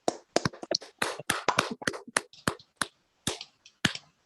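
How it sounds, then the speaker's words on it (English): An audience claps for a speaker at the close of a talk on Ben Fletcher and the Wobblies, with sparse, uneven hand claps rather than a dense roar, loud and close, tapering toward the end. "Give Peter a warm round of applause"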